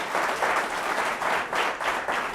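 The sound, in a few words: audience applauding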